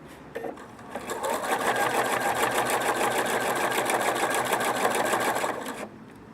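A Pfaff Quilt Expression 4.2 sewing machine runs steadily for about five seconds, its rapid, even needle stitching close and fairly loud, starting and stopping abruptly with no talk.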